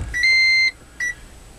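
Two electronic warning beeps from a Toyota Prius T Spirit shifting into reverse: a long steady tone followed by a shorter second beep, clear and close inside the car.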